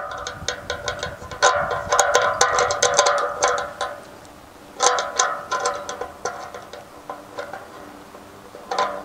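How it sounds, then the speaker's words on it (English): A wing nut is tightened by hand on the mounting bolt of a QuickSAT QS45 portable satellite dish, giving bursts of close, sharp metallic clicks and ticks that come in quick runs with a short pause between them. No one speaks. "and then just tighten up our wing nut,"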